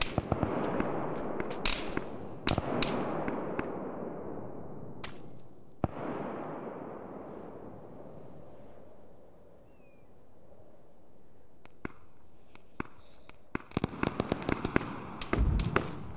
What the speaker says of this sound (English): Mortar just fired at the RIP guys.